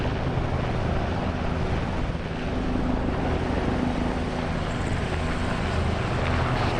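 A stealth helicopter arrives in Operation Shadowhand with a steady, loud rotor drone and engine rumble that fills the scene continuously, its whirring blades holding a constant roar without pause.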